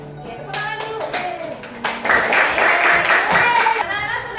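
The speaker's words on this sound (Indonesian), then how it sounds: "Oke, tepuk tangan dulu." Children in a primary school class clap their hands in a patterned rhythm, brisk and close, building to a denser burst near the end while voices chant along.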